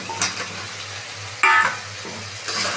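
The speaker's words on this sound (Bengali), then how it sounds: "আমি কুমড়োগুলোও দিয়ে দিচ্ছি এর মধ্যে" Pumpkin and potato chunks frying in a pan for kumro aloo chokka, a steady soft sizzle with stirring scrapes and a brief louder burst of hiss partway through, close and with no talk.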